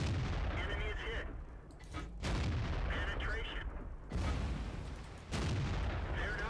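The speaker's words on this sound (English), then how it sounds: "He's fired his shot." Tank cannons fire in the World of Tanks video game, with three heavy booms spaced a couple of seconds apart, each followed by a rumbling decay and mixed with game noise.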